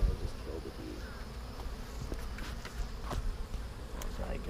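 Honey bees hum steadily inside an open hive as a super is added, a continuous close buzzing drone with a few faint taps and knocks from hive handling.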